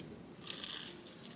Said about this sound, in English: I'm going to start with these tofu miso bits. Sounds so crispy.